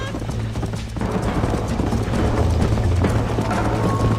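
Hooves clip-clop in a fast, steady gallop as a horse runs in the Red Dead Redemption video game, loud and close, with a faint voice briefly under the pounding rhythm.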